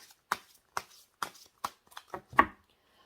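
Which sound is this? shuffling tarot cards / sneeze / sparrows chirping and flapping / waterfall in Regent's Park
shuffling tarot cards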